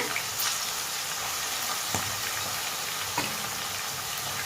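Onions frying in oil in a pan for a spicy crab curry, a steady soft sizzle with a couple of faint clinks from stirring, alone without voices.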